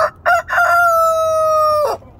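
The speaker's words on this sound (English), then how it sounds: "Like really beautiful chickens." A rooster crows loudly and close by, a long sustained call preceded by a few short clucking bursts.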